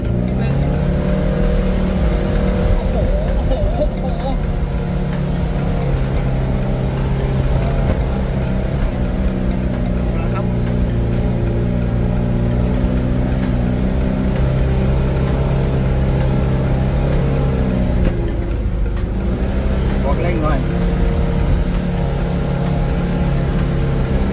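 A car engine climbs a steep road up Khao Krachom in Suan Phueng, Ratchaburi, sustaining a loud, strained drone with steady low harmonics under intermittent talk.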